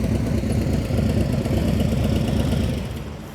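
Harley-Davidson motorcycle engine rumbling steadily nearby as the bike pulls away, a dense low drone that fades slightly at the end, with no talking.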